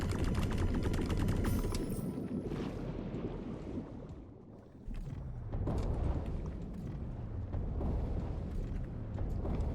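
Grenade explosions and gunfire rattle through a battle in the video game Dave the Diver, a dense, loud barrage of booming blasts and rapid shots that dips briefly midway before surging again.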